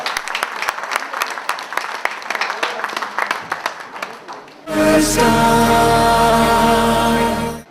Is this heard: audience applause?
yes